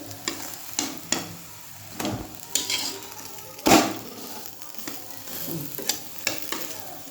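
Food frying in a pan with steady sizzle, punctuated by repeated sharp scrapes and clinks of a utensil stirring against the pan, one louder knock near the middle.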